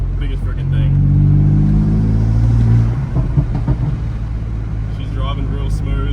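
A BMW M4 car on the move gives a smooth, droning engine hum that rises and holds for a few seconds, then settles under muffled talk and cabin noise.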